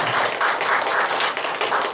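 Dense applause from a church congregation during a service, a continuous wash of many hands clapping at once.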